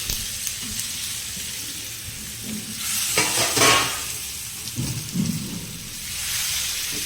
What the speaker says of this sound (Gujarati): એટલે રાઈ થોડી તતડે એટલે આપણે તેમાં એક મોટી ચમચી જેટલા તલ ઉમેરી